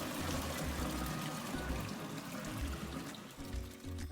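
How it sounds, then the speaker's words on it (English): Hot water poured steadily from a bucket into a carpet cleaner's clean-water tank, a soft continuous splashing and gurgle with low thumping underneath, fairly quiet and close. "I'm going to pour hot water"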